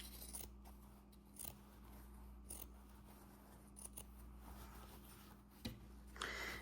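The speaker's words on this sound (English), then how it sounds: "Just want to use little scissors for this, not the big ones like I'm doing." Large scissors snip through fabric scraps for a small wallet keychain purse, giving a few crisp, separate cuts at close range in a quiet room.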